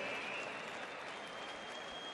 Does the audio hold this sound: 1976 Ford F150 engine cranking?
no